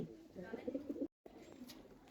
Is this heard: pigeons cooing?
yes